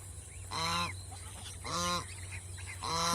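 Domestic geese on a goose farm give three loud, nasal honks, evenly spaced and close by, with quieter farm background between calls.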